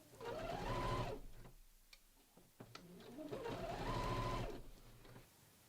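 A sewing machine runs in two bursts of long basting stitches, joining a bomber jacket to its lining at the neckline, with a whirring motor that rises and falls and a short pause of clicks between runs.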